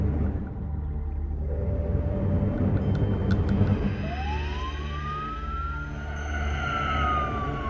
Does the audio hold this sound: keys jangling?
no